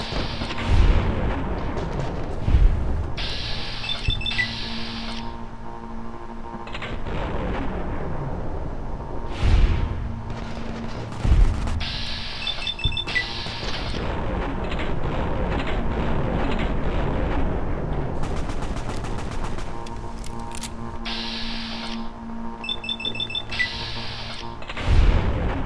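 Gunfire in Fallout: New Vegas, heavy booming shots landing in irregular bursts over a dense, busy game soundscape with layered electronic tones, loud and close.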